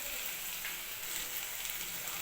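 Cumin, coriander and chili powder sizzle in hot oil in a frying pan with tomato, garlic and ginger, giving a quiet, steady crackling hiss throughout with no talk.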